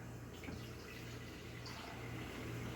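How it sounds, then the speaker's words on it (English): Water from a coffee pot pours steadily into the back reservoir of a drip coffee maker for sweet tea, a faint continuous splashing trickle with no talk. "I've already got the pot filled with water up to the metal band. We're just going to pour that in the back."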